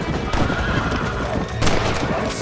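A horse neighs in the Red Dead Redemption video game, a loud whinny over clattering hooves and steady game noise, with a second burst of sound partway through.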